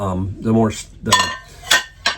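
Stainless steel All-Clad pans handled in a kitchen, giving a few close metallic clanks and scrapes in separate bursts, with a voice talking over and between them.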